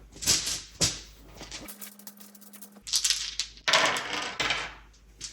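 Big chunky dice for the Dinosaur World board game rolling on a table, heard as several short clattering rattles with a quiet pause in the middle.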